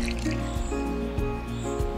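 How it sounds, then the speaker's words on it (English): Water fills jugs beside a river in a children's storybook scene, a close, continuous gurgling and trickling pour lasting a couple of seconds alongside steady tonal sounds. "I have to fill the water jugs."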